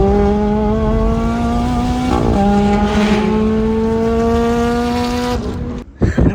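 A supercharged Mercedes E55 AMG runs hard beside a Ferrari F430, a loud, close, steady engine drone that rises in pitch under acceleration, shifts gear, then cuts off abruptly, followed by a few brief bumps.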